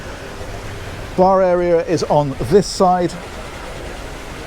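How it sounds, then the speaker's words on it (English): Steady rushing water from a decorative waterfall feature aboard a Princess Y95 superyacht, a constant broadband wash running throughout, with someone talking over it in the middle. "And that noise you can hear is the waterfall."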